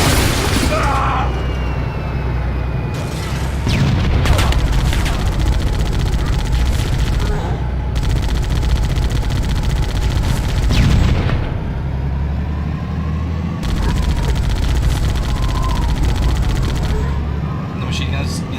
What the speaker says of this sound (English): The machine gun is inaccurate as hell.